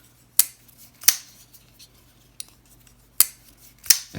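A Divo Stout reverse flick knife drops its blade shut several times, each one a crisp, sharp metallic click separated by short quiet gaps.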